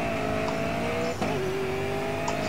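Race cars cornering in the racing video game Grid Autosport, a steady engine drone with a pitch drop and brief tire squeal midway, loud and continuous with no talking.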